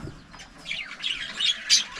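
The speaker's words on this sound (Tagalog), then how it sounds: "Dumami na sana yung mga ibon natin dito, pero nag-aaway po sila minsan." Small caged birds chirp and squawk in quick, scattered calls, moderately close and fairly faint, with a slight flutter.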